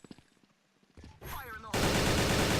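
Rapid gunfire bursts from a video game shooter, First Blood, start faint and sparse, then swell into loud, dense continuous firing that dominates the last second, with a brief voice early on.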